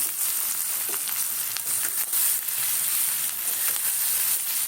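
Potatoes go into hot oil with turmeric and peas for a Bengali aloo kosha, and a steady, close, dense sizzle of frying runs through the whole stretch with no talking.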